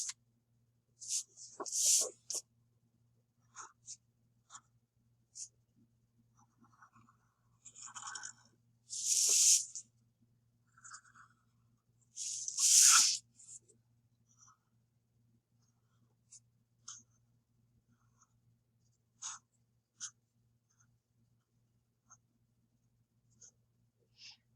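Pen inking a superhero self-portrait on paper: scattered soft scratchy strokes come in short bursts with quiet pauses between, a few louder scribbling passes standing out, close and alone without talk.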